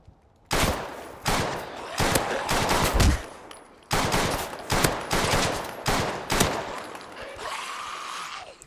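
Gunfire in a modded Fallout 4 game, heard as a string of loud, sharp shots in uneven bursts with short pauses, close and dominant, followed by a fading tail at the end.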